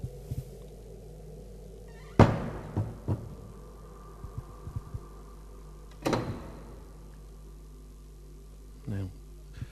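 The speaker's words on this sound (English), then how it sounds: "I'm going to close the door." A heavy prison cell door at Wicklow Gaol slams shut with a loud, echoing metallic bang, followed by a second bang a few seconds later and small clanks in between, under quiet room tone with a brief voice.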